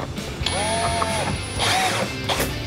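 A ratchet clicks in quick bursts while driving the three mounting screws of a fog light on a Roush front fascia for an S550 Mustang, fairly close and alone with no talk.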